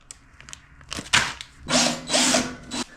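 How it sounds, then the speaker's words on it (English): A power driver backs screws out of PCB holders in a DIY battery box, giving several short whirring bursts close by along with brief clicks and handling noises. "while I was removing these screws for the PCB holders here"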